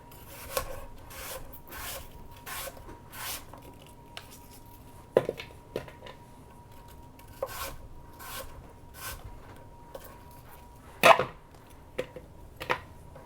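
A knife slicing apples thin around the core for apple pie and dumplings, with a series of faint, soft strokes at an uneven rhythm over a quiet kitchen background.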